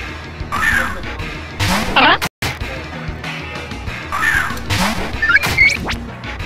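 Bird Pokémon cry in Pokémon Uranium, two harsh, crow-like cawing calls a few seconds apart, loud and up close, with game sounds in between.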